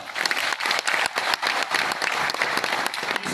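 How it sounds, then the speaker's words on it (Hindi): Seminar audience at a product information event in Pune giving a round of applause, dense continuous clapping from a large nearby crowd, fairly loud and steady throughout. "इसलिए मैंने इनके लिए तालियां बजवाई"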